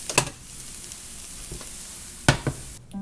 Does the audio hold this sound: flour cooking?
yes